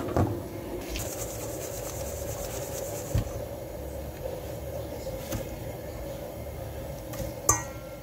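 Fried Bolivian-style snacks being tossed with sugar and cinnamon in a bowl, a steady rough rubbing and scraping with occasional light clinks, close and continuous.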